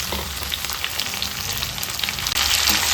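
Tomato fries in hot oil in a pan for a dhaba-style egg curry, a loud, dense, continuous sizzle with faint crackles that briefly dips and then returns slightly stronger.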